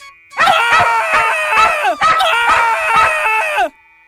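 Street dogs in an animated story bark in a fast, loud, close burst of repeated yaps, two rapid runs of barks with a brief pause between, with no talk over them.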